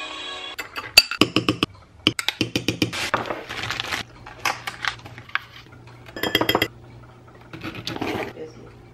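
Ice cubes clatter and clink into a glass with milk in a home kitchen, a quick run of sharp, bright knocks followed by scattered lighter clinks, close and fairly loud.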